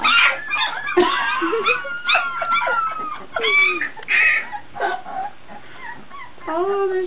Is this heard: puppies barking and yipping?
yes